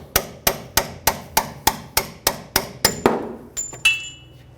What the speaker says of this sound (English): You might have to use a hammer and punch.